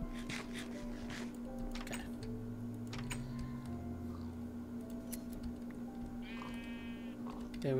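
Sheep bleat in the Minecraft modpack Agrarian Skies, a few short wavering calls over a steady game tone and soft ticking noises, with no talk during the clip.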